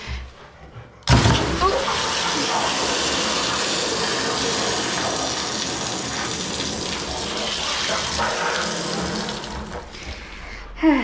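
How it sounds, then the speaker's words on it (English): A hose nozzle sprays water in a steady, loud hiss, starting abruptly and running continuously for about nine seconds while a Siberian Husky is bathed, then cutting off near the end. "let's give this nozzle a quick test"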